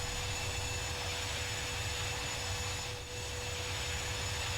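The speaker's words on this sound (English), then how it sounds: "Great, so that's takeoff for you." A small airplane's engine drones steadily and loudly through the climb after takeoff, a constant broadband roar with a steady hum and a brief dip in level near the end.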